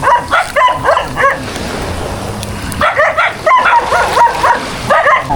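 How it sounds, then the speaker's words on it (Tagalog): Several dogs in a rural Filipino yard bark in repeated loud, close bursts, pausing briefly before a second run of overlapping yaps and yips. "Hindi na ako nakilala ng mga aso nila Tita Nini."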